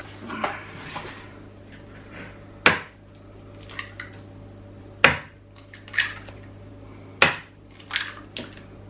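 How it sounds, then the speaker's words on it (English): Eggs being cracked and added to a creamed butter and sugar cake mixture, with several sharp cracks and knocks against a bowl, spaced a couple of seconds apart, amid soft squelching and clinking. "now to add the eggs"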